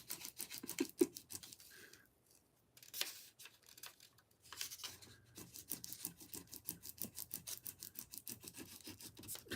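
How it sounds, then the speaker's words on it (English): A piece of unevenly cut wood is rubbed and filed by hand, producing quiet rhythmic rasping strokes that speed into a steady back-and-forth scraping pattern after a brief pause, close but faint with no talking. "Trying to do it, rub it different ways because this wood is like, the way he cut it is not like straight."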